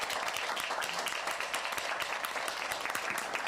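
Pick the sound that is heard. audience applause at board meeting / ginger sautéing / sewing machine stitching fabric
audience applause at board meeting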